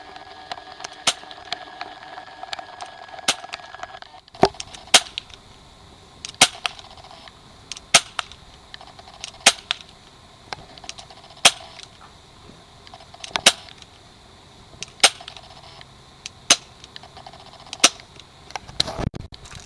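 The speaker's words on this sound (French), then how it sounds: "Colt 1911. Test de tir, 20 mètres, Siberian, culasse fixe." Repeated sharp shots from a Cybergun Colt 1911 CO2 airsoft pistol with a fixed slide, fired at a 20-metre target, about a dozen loud cracks at irregular intervals of roughly one to two seconds.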